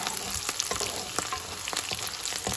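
Ingredients for sambar frying in a pan, a steady close sizzle with occasional scraping and stirring clicks, no voices.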